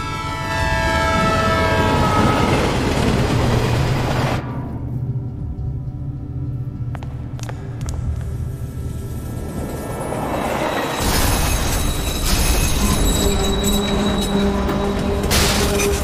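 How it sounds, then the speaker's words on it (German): A train approaches a level crossing where a car is stuck on the tracks in the Art of Murder video game: a loud, sustained rumble with horn-like tonal blasts at the start and again near the end, building throughout, with no talking. "Praktischerweise kommt ein Zug."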